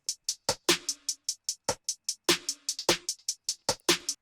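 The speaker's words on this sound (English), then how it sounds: "I wanted a dark percussion in there because it's very common in bouncy beats" A bouncy beat with dark percussion and a delayed hi-hat plays as crisp, evenly spaced hits, with bright hi-hat ticks echoing between deeper, punchier strikes, and no voices.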